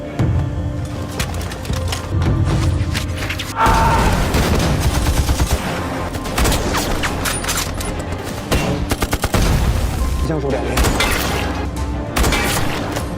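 Battle-scene gunfire from the war film The Sniper, a loud, dense barrage of rifle and machine-gun bursts mixed with sharp cracks, shattering impacts and rapid rattling volleys throughout, with no speech.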